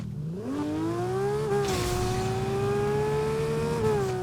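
A car driven in the video game Fortnite, its engine note climbing steadily as it accelerates, then holding a loud, steady drone close by with no talking over it.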